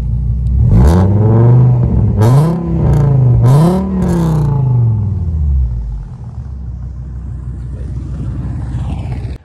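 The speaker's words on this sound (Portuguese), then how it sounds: "Vou pedir pro Cássio dar uma acelerada" A Fiat Marea Weekend HLX with a five-cylinder engine revs hard from idle in a few rising and falling blips, loud and close, then settles back into a low steady idle rumble.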